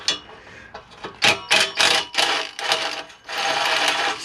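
A ratchet undoing exhaust bolts on a Subaru WRX, a quick series of sharp clicking bursts that come close together and rise to a steady run of clicks near the end.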